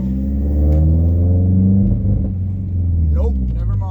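A Mazdaspeed 3 fitted with a methanol solenoid is on a test pull, its engine revving up in a loud, close rumbling climb that eases off, then builds again under a voice.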